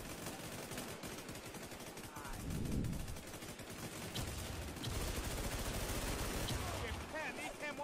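Sustained bursts of rapid gunfire during a team video game match, dense automatic shots running almost continuously with louder stretches, while players talk over it.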